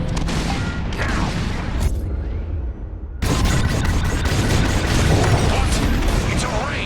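Bombs exploding in the Star Wars Squadrons video game: loud, heavy booms and crackling bursts, a brief lull, then a dense wave of rumbling blasts that carries on to the end.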